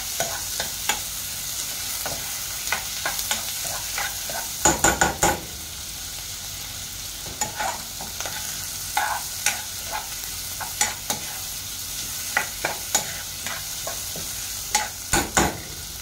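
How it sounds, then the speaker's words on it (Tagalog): Vegetables and shrimp sautéing in a pan for Filipino ginataang gulay, a continuous sizzle broken by repeated scraping and clacking strokes of a utensil stirring against the pan, close and without any talk. "Bigisan naman natin."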